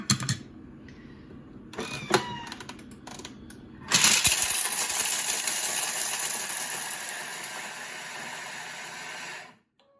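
Kitchen food processor on speed 8 chopping chocolate buttons, starting with a few sharp rattling knocks and clatters before a loud, steady whirring grind that runs for about five seconds and then cuts off abruptly.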